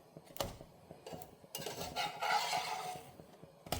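Mini batbout dough rounds being turned over in a pan, with light clinks of utensil against metal, soft scraping and a faint sizzle building in the middle, close and fairly quiet.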